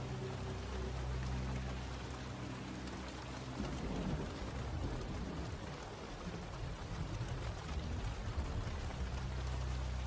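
Steady rain pours down in a dense, constant hiss with low rolling rumbles of thunder beneath it, continuous and enveloping throughout.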